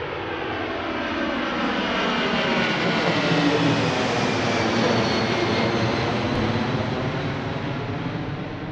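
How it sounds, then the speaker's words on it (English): A Boeing 757 jet airliner comes in to land at Washington Reagan National Airport in February, its engine roar loud, broad and steady for the whole stretch, swelling slightly as it nears and passes overhead. "Kind of looked like a 757 coming at me."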